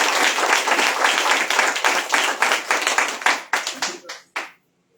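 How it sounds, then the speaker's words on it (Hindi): A church congregation at a Hindi worship service claps together in dense, sustained applause that thins out toward the end into a few scattered final claps before falling silent. "एक बार फिर से पिता, पुत्र और पवित्र आत्मा के लिए ताली बजाएं"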